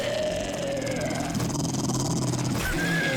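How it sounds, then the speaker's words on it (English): Low, rumbling growl of a dog in the 7 Days to Die game with the Romero mod, close and loud over steady background game noise, with a few whining tonal sweeps mixed in. "I honestly didn't remember there was a dog here"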